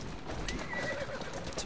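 A horse whinnies briefly amid a busy Assassin's Creed Syndicate game soundscape, its wavering call rising over a steady background rumble with a few clattering knocks.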